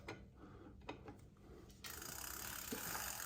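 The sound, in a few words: pedal wrench turning a bicycle pedal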